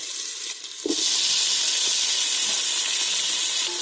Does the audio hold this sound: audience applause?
no